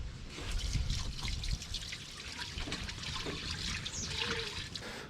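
Water trickles and splashes as it is poured into the drip tray of a smoker, a close, continuous dribbling stream with a few sharper drips.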